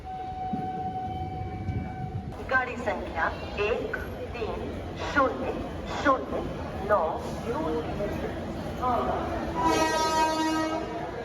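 A train horn blares over the rumble of railway cars, with people chattering nearby at busy Haridwar station.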